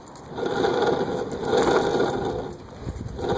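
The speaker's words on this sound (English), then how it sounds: "you hear that really bad grinding sound? That's my ball bearing about to just like go out." Worn ball bearing in a scooter's rear wheel grinding as the wheel is spun by hand, a close, continuous rough scraping drone that swells and eases in two long waves over a few seconds, with no voices.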